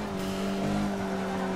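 A Formula 1 car in Forza Motorsport 6 brakes and its engine drones steadily with a strong tonal hum, loud and close throughout.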